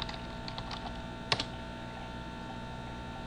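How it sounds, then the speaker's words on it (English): Login details typed on a computer keyboard for Minecraft: a quick run of soft, close keystrokes with one sharper key press in the middle, over a faint steady hum. "So you're going to have to type that in."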